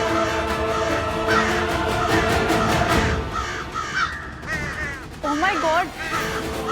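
A dense flock of crows caws continuously and loudly, harsh calls overlapping throughout, while a person exclaims briefly in Hindi over the din.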